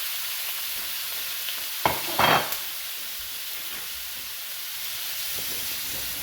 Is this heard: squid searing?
yes